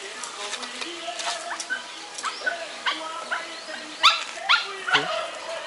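Dogs at a zoo animal park bark, yip and whimper in short uneven bursts, fairly close, while people talk and exclaim over them.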